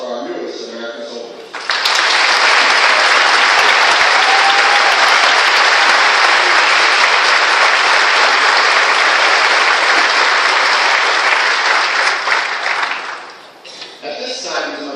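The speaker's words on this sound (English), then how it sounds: "please join me in a round of applause for our newest American soldiers" Loud, sustained audience applause at a Fort Sill Army basic training graduation ceremony for new soldiers, rising after a brief spoken line and holding steady for about ten seconds before fading as speech resumes.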